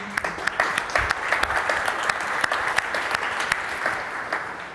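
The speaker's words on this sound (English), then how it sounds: "So a big thanks to them and a big round of applause." A room of conference attendees applauds at a media event, dense clapping with individual sharp claps standing out, steady and moderately loud for the full few seconds.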